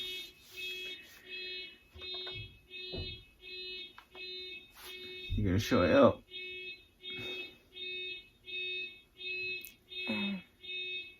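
A car alarm outside a house beeps in a steady repeating pattern of short tones, heard from a distance, while people talk nearby.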